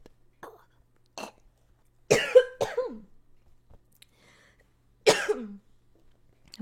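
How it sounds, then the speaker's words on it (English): Several separate coughs and throat-clearing bursts from one person in a quiet room, spaced irregularly and fairly close, with silence between them. "you've got someone like coughing in the background"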